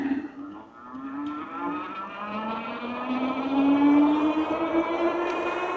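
An electric motor on a Freesky Swift Horse e-bike whines under throttle during a test ride, a steady tonal hum rising gradually in pitch and loudness as speed builds, with wind and road noise beneath.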